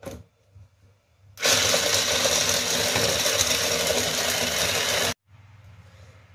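A small kitchen blender whirs loudly and steadily for about four seconds while mixing cake ingredients for a chocolate pistachio cake, starting and stopping abruptly, with quieter handling noise before and after.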